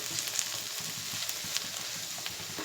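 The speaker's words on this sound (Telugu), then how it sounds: "సాల్ట్ వేసుకుంటే కొంచెం తొందరగా ఫ్రై అవుతుంది" Onions fry with salt in a pan, giving a soft, steady sizzle with small crackles and pops throughout, heard close up and alone with no voices.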